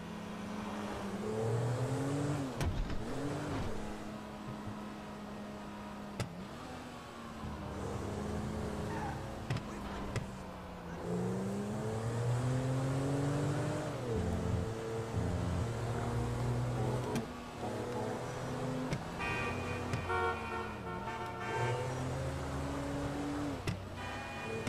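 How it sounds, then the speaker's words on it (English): Car tires hum steadily over cobblestone road sections in Grand Theft Auto V, a continuous rolling drone with engine tones rising and falling, sustained throughout at moderate level. "I like driving over those cobblestone bits. I don't know why. I just like the hum of the tires as it does it."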